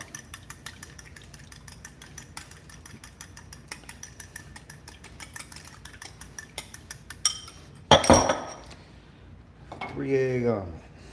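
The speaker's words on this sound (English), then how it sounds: "Let's mix these eggs up" Three eggs whisked in a bowl for an omelette, a fork or whisk ticking rapidly and steadily against the side for several seconds, followed by a brief clatter and then a voice speaking.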